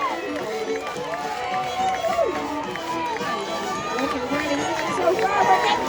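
A crowd at a live lumberjack competition cheers and shouts steadily, with many overlapping voices and a lively din throughout.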